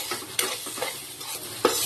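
Spiced pasta frying in a pan is stirred with a utensil. A soft sizzle runs beneath irregular scraping strokes, with a couple of sharper clinks against the pan.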